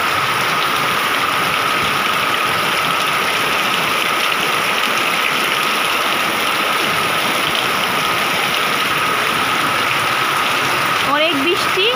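Heavy rain falls in a constant, dense wash of noise with no breaks, with a faint steady hum beneath it.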